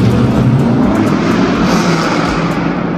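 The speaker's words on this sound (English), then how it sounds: "The fourth cool thing about Brad's car is the exhaust note." A C6 Corvette drift car with an LS3 V8 rumbles loud and close, its deep, continuous exhaust note steady and dominant throughout with no voices over it.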